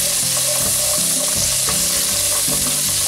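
Beans and pasta for pasta e fagioli frying in a pan, a loud, dense sizzle filling the whole clip with rhythmic stirring scrapes beneath it, no voices.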